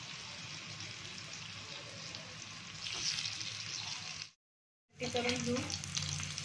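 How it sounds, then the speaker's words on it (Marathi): Alu vadi slices shallow-frying in a little oil, giving a steady, close sizzle that cuts out briefly and then resumes, with a short spoken phrase near the end. "चांगले दोन्ही साईडनी लालसर तळून घ्यायचे."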